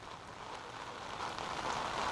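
Heavy monsoon-style downpour falling in Jaipur, a steady dense hiss of rain on surfaces that swells slightly louder toward the end, with no voices.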